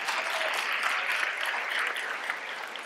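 An audience at a speech by the Prime Minister of Canada breaks into steady, dense applause that holds at an even level throughout, slightly distant and without pauses.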